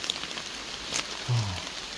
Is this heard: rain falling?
yes